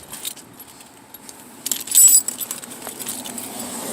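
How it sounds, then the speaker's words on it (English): Metal keys jangle and clink in short bursts, loudest in the middle, close by with quiet rustling between. "Get my keys so I don't forget them."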